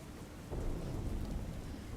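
Heavy, persistent rain pounds down steadily in a town, and a low thunder rumble swells in halfway through and lingers beneath the downpour.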